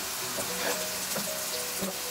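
Turmeric and green chilies sizzling in hot oil in a pan for tomato rice, a steady close frying hiss with faint stirring scrapes throughout.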